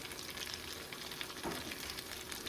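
Cheesy loaded potato cakes made from leftover mashed potatoes fry in a pan with a steady, dense sizzle and crackle, fairly quiet and even throughout, with no voices.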